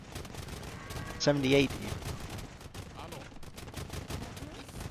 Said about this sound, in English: That's a whole lot of hand cannons. That is 76 hand cannons on the field.